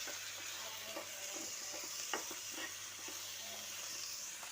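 Drumsticks fry in a pan with a steady soft sizzle, quiet and close, while a spoon stirs with light scrapes and taps throughout.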